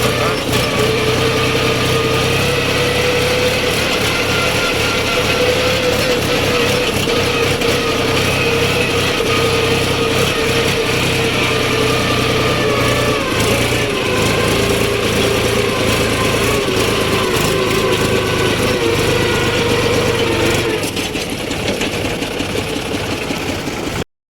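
A tractor engine runs without a break at a constant idle-like drone. The buzzing hum stays loud and steady, then drops slightly near the end.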